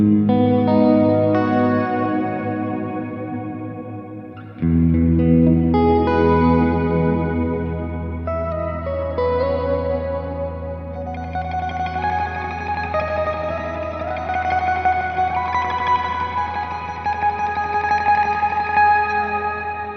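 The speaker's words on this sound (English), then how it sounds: "Maybe one of the cleanest shimmers I've heard, certainly, from a reverb pedal." Guitar played through a Strymon BigSky MX reverb pedal set to shimmer with long decay and low modulation: sustained chords ring out in a bright, octave-up shimmering wash that swells and blends continuously, loud and alone without talk.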